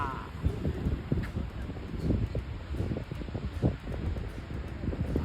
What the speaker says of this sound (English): it's strong wind today